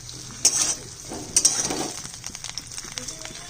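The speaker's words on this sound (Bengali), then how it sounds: "আলুটাও আমি ভেজে নিলাম" Potatoes fry in a pan with a moderate, even sizzle, broken by a couple of clattering stirs and lighter scraping that continues toward the end.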